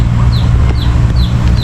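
A Rhode Island chicken makes four short, evenly spaced high calls at close range over a steady low rumble in a backyard setting.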